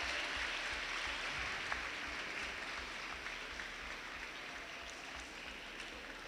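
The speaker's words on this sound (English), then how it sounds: "Please clap for them." Steady applause from a crowd at a nursing college International Nurses Day event, dense and continuous, heard from a little distance without pause.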